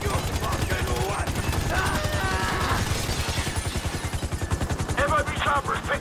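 Rapid automatic gunfire in a Grand Theft Auto 5 rooftop raid mission, loud, sustained bursts of shots throughout, with game voices and chatter heard over the shooting.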